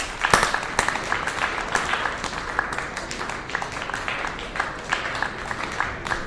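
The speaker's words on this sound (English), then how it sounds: "So another big round of applause for all of you." Applause for 2020 graduates of a temporary master's program, a sustained round of many hands clapping at moderate distance, dense and steady with sharper individual claps near the start.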